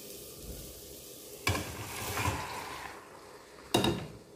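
Pasta gets stirred through a creamy, cheesy sauce in a pan, with a soft, quiet bubbling sizzle broken by two distinct scraping strokes of the spoon.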